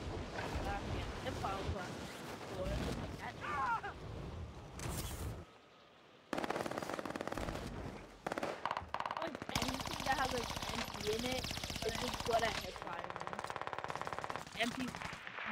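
Video game gunfire, loud bursts of rapid automatic shots in several stretches broken by a brief near-silent gap, mixed with other game sounds.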